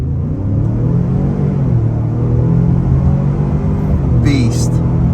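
A 2023 Ford Expedition Timberline in four-wheel-drive auto launches hard from a brake-torque start, its engine note droning and climbing in a loud, close cabin rumble.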